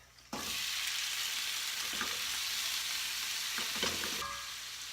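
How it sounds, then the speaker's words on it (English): About three cups of shrimp dropped into a hot pan, bursting into a sudden loud, steady sizzle that holds evenly with a few brief stirring scrapes before easing slightly at the end. "And now I'm going to put my shrimp in."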